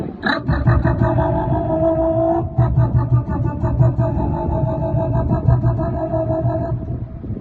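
A voice imitates an auto rickshaw, a sustained buzzing, sputtering engine drone with a brief break partway through, loud and close.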